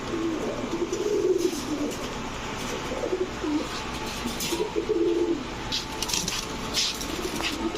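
Army breed pigeons, large birds kept in a loft, coo in repeated low throaty phrases close by, several calls overlapping in a soft rolling rhythm with light background rustle.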